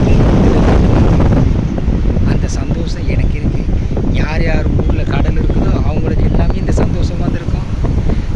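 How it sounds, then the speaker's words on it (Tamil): Strong sea breeze at a North Chennai beach buffets the microphone in loud, continuous gusts, with surf rumbling underneath and faint voices nearby. "நீங்களும் என் கூட வந்து வட சென்னையின் கடல் காற்றை சந்தோஷமாக அனுபவிங்க"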